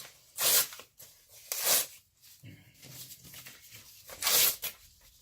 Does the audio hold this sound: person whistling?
no